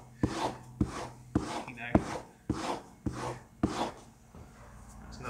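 A steel chisel is honed back and forth on a strop charged with honing compound, giving a steady series of about eight scraping strokes with a firm rasp at the start of each pass, close and clear with no talk.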